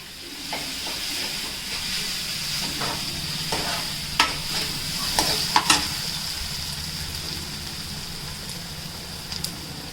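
Fenugreek leaf curry is stir-fried in a pan and sizzles with a steady hiss. A spatula scrapes and taps against the pan several times, close and fairly loud, with no talk over it.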